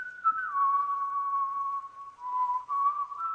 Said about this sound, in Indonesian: Namun saat itu tiba-tiba Poseidon bersiul.